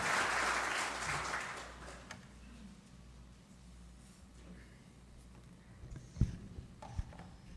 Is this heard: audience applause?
yes